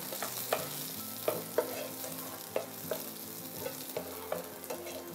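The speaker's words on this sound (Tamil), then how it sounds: "இப்போ இந்த வெங்காயம் நல்லா வதங்கினதுக்கு அப்புறம் இதில் நம்ம கட் பண்ணி வச்சிருக்கிற பூண்டு சேர்த்துக்கலாம்." Onion and garlic sautéing in a pan give a steady close sizzle, broken by repeated clicks and scrapes of a spoon stirring, with no talking.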